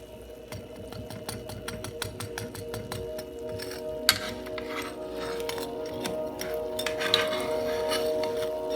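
Crunchy fried bread pieces for shahi tukra clink and crackle as they are handled on a plate or pan, with a run of brittle, irregular taps and scrapes close up, a few sharper clicks standing out, and no talking.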